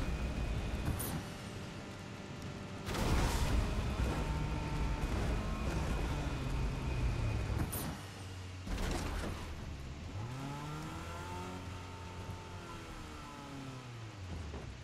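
A car in the Fortnite video game drives and revs with a steady mid-level engine drone, rising and falling in pitch through several gear-like sweeps, with a couple of sharp bursts along the way.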